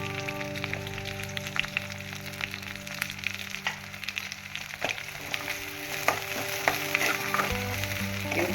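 Garlic cloves frying in a pan for a raw-mango and spinach curry, a steady soft sizzle with occasional crackles and utensil ticks, close and continuous with no talk.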